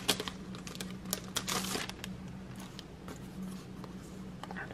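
Pop-up sticker being peeled off its backing sheet at a craft table, a run of close, soft crinkling and tearing crackles with brief ticks, fairly quiet over a low steady hum.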